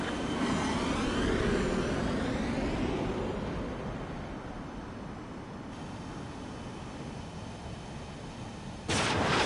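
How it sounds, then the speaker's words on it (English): A missile striking a bomber in the aerial combat game Ace Combat 7 brings a loud, rolling explosive roar that fades slowly under steady jet engine noise, with a fresh burst near the end. "Bomber hit by a missile."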